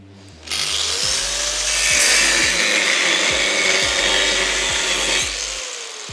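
An angle grinder cuts into a metal car exhaust on an RB200 project car, a steady, loud, close grinding whine with a faint rhythmic knocking underneath, holding for about five seconds before it abruptly stops.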